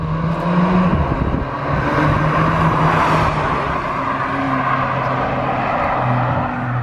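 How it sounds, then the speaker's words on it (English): A VW Golf GTI fitted with a decat eBay downpipe drives and downshifts, producing a steady loud engine drone with shifting pitch and a rise as the revs climb, with no voices over it. "Can hear the downshifts a bit better, to be fair."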